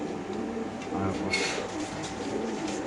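BRPFC racer pigeons coo softly in a loft, low repeated murmuring calls under a steady background hum, with a brief brighter rustle midway.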